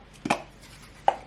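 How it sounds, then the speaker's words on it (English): A knife cuts salted butter into chunks for melting in a home kitchen, giving two close, crisp chops on a board a moment apart, then a third about a second later, with quiet in between. "I'm going to cut the butter up into chunks to help it melt"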